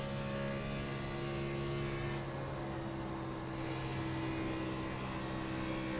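NASCAR Cup car engine in the iRacing simulator: a continuous loud droning roar that eases slightly midway as the throttle lifts, then holds steady again at full throttle.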